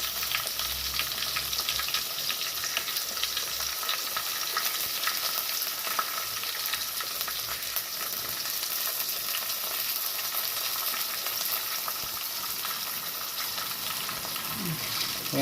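Onions and vadagam frying in hot oil for a Kerala-style catfish curry, a steady close sizzle with faint stirring scrapes running throughout.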